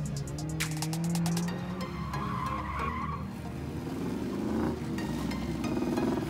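A Nissan 240SX drifting at a drift event, its tires squealing and skidding across the whole stretch, with engine noise underneath and loud, close sliding scrubs that rise and fall.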